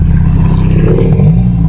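Loud, close Dodge Hellcat V8 revving, a deep throaty roar that holds steady and surges around the middle before cutting off abruptly at the end.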